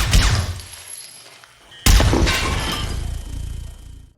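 Two sharp gunshot bangs fired through a door, the first followed by a crashing, splintering decay, the second a loud sudden crack with a long ringing tail.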